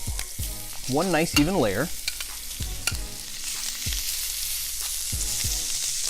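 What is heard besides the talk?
grass-fed ribeye steak searing in oil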